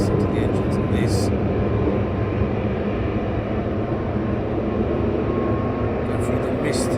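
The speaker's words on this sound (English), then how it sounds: "Listen to the engines of this." Aircraft engines roar continuously at East Midlands Airport, a loud, steady, broad rumble heard at close range with no talking over it.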